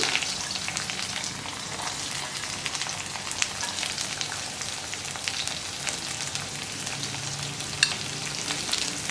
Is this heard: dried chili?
yes